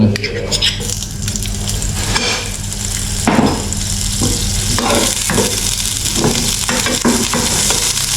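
Butter sizzling steadily in a hot pan while being stirred, a continuous loud frying hiss with scraping utensil strokes throughout, close up.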